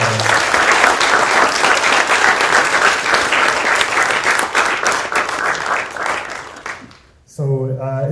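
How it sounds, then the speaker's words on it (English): An audience at a university talk with North Korean defectors, held at the University of Washington, applauds loudly and steadily for about seven seconds. The clapping fades, and then a voice begins speaking. "Let's give her another round of applause."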